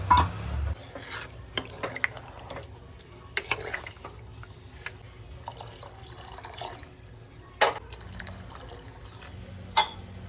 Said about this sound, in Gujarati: પાણી આપણે થોડુંક વધારે એડ કરવાનું છે.